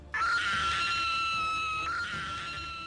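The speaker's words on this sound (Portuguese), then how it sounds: "emite um som muito parecido com um grito de uma mulher" A shrill, sustained scream-like cry attributed to the Mothman, a winged creature with huge glowing red eyes, resembling a woman's scream; one loud, steady wail of nearly three seconds with a brief break, heard alone.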